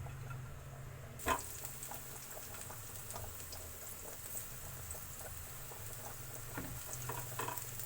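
Steady crackling and sizzling of chopped garlic cloves frying in hot oil, with a soft pop near the start and scattered spits throughout, close and continuous.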